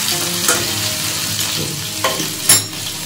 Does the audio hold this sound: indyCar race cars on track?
no